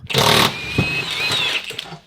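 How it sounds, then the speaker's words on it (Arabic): A pneumatic air impact gun removing bolts during repair of a Ford Mustang, a loud rattling burst of hammering that settles into a sustained whining run before cutting off, close up. "مسدس الهواء هنا حقيقي بينجز العملية بسرعة وبيوفر وقت ومجهود"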